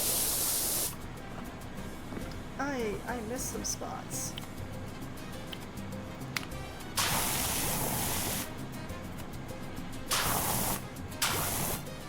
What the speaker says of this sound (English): Okay, I can stop maniacally spraying it then.